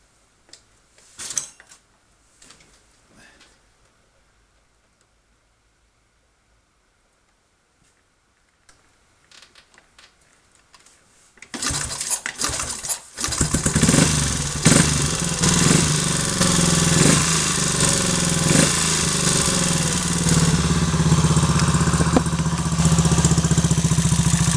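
A Triumph Tiger Cub (Bantam Cub) motorcycle with minor issues is started after a few quiet clicks and knocks. Its single engine then catches and runs loudly and steadily at a fast idle, close by.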